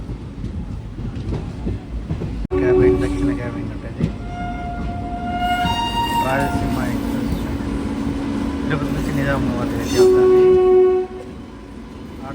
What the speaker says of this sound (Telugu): ట్రైన్ అంటే రాయలసీమ ఎక్స్ప్రెస్ ట్రైన్ ఇది